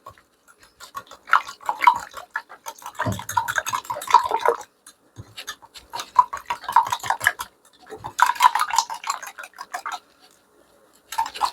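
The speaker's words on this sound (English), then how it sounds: "We're just going to mix this." Spoon stirring a baked mac and cheese mixture with dried parsley in a bowl, bursts of scraping and clinking repeating in steady rhythm with short pauses between, close up and fairly loud.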